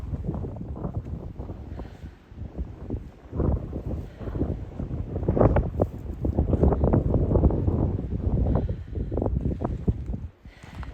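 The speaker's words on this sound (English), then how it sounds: "I can't get on video because it's windy and cold." Gusty, cold wind buffets the microphone on a mountain trail, producing continuous low rumbling and thumping that swells and fades.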